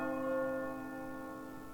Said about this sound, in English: The bells just banging away.